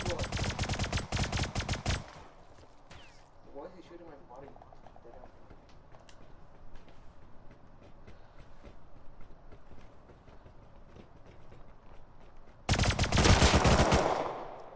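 Rapid automatic gunfire from the video game Rust rattles loudly in a two-second burst, gives way to quieter rustling and scattered distant shots, then erupts again in another loud burst near the end, while a person talks.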